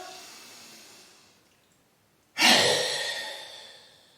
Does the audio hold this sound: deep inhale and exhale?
yes